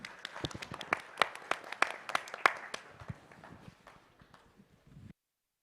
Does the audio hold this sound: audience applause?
yes